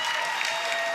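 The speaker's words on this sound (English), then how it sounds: "a big applause for both athletes" Crowd at a fight league event applauds both fighters after a close bout, a brief, full burst of steady clapping heard at a distance.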